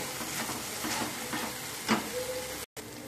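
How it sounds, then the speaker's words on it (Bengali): Masala with turmeric and chilli powder sautés in a pan, a faint steady sizzle with soft stirring scrapes and one brief sharper clatter, no voices. "এখন দিয়ে দেব হলুদ গুঁড়ো, লঙ্কা গুঁড়ো দিয়ে ভালো করে মশলাটাকে কষিয়ে নেব"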